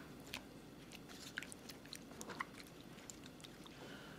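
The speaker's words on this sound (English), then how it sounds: "So go ahead and begin mixing all your ingredients." Shrimp ceviche ingredients being stirred together in a bowl, giving soft wet squelches and small crunchy clicks, close and quiet over a steady low background hum.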